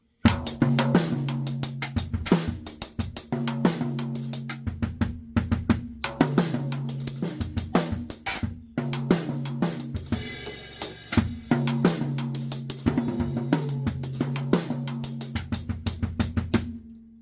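A full drum kit plays a steady, busy groove with cymbals and a gel-dampened tom-like drum carrying a focused, sustained tone, loud and close.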